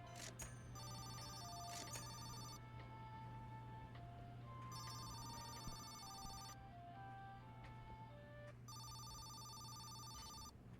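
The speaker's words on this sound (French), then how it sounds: "Comment ça, appel entrant? Il est où le téléphone?" An incoming phone call rings in Laundry Store Simulator, three repeated bursts of electronic ringing over a constant low hum and light background sounds.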